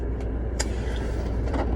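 Interior of a moving car with a steady low engine and road rumble, close and continuous, with faint light ticks over it.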